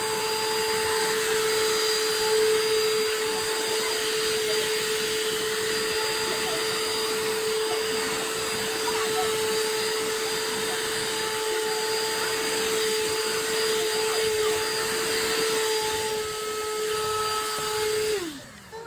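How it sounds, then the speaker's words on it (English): A Ryobi Swift Clean spot cleaner's vacuum motor runs as a loud, steady whine with a strong constant tone for about eighteen seconds, then winds down abruptly at the end. "Let's turn on the vacuum."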